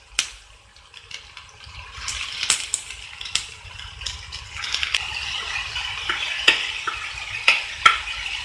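Shredded cabbage and potato sauté in oil in a pan, with a soft continuous sizzle broken by frequent sharp clinks and scrapes of a spatula stirring against the metal.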